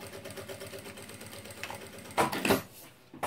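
A sewing machine runs a seam along an organizer as clips are pulled out ahead of the needle. It hums steadily at close range, then gives a louder, sharper burst near the end, with no talking.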